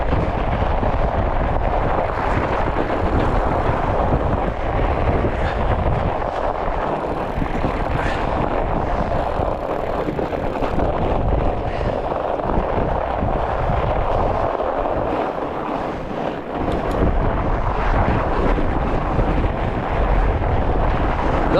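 Wind roars into the microphone while friends ride fatbikes over a frozen lake. The rumble is continuous and loud, with gusts swelling and dipping for the whole stretch and no voices.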